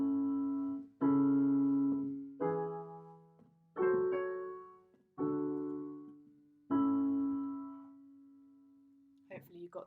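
A chord progression in A is played on a sustained keyboard-like instrument: six separate chords, each struck and left to decay, before a brief trailing noise at the end.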